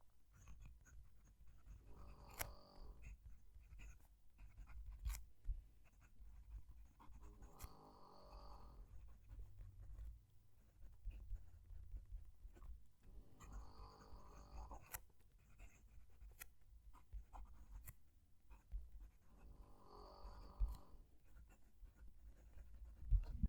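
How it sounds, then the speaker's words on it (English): A steel-nib fountain pen writes on paper close to the microphone, giving soft scratchy strokes in four separate bursts with quiet pauses between them and a low steady background hum. "I'm going to move the mic down to the page so you can hear the pen write."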